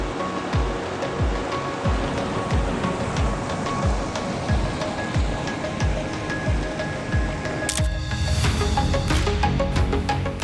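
Water flows steadily through the Harz forest in Germany, a continuous close rushing wash like a stream or small cascade, loud and unbroken with no talking; a sharper splashing burst comes in near the end.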